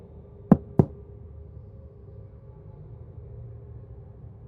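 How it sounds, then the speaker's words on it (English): Two sharp knocks on a door in the video game Life is Strange: True Colors, close and distinct in quick succession, followed by a quiet room hum. "Knock, knock."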